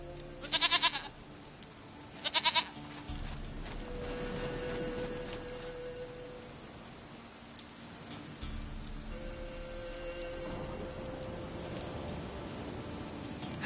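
Two short, sharp goat bleats ring out in quick succession in The Witcher 3, then give way to a soft steady ambient backdrop with a light rain-like hiss and no voices.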